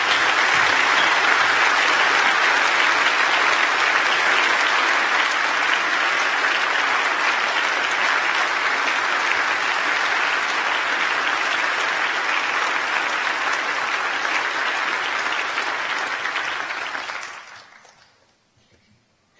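An audience in a hall gives sustained, dense applause for new graduates at a winter university graduation ceremony, loud and even for about seventeen seconds before quickly fading to near silence.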